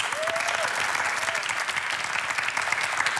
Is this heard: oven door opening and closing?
no